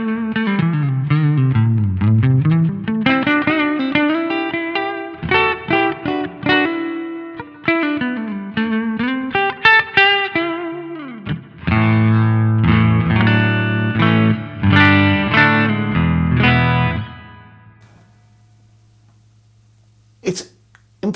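A 1968 Gibson 330 electric guitar with P90 pickups plays a run of bright, slightly driven single notes and chords, some bent or sliding. The notes ring out and fade into near silence, then a final short pluck sounds.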